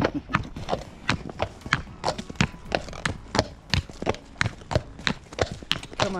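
A Shire horse walks in fog, its hooves clip-clopping in a steady, even rhythm of distinct close knocks throughout.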